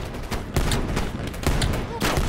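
Rapid bursts of automatic gunfire in the video game Call of Duty Black Ops Cold War, several loud volleys in close succession with brief gaps between.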